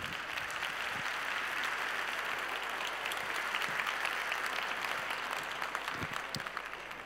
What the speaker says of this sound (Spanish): un aplauso me ayuda mucho a empezar